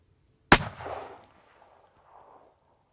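Single loud rifle shot fired at a 4x4 whitetail buck while hunting, a sharp close crack followed by a rolling echo that fades within about a second, then near silence.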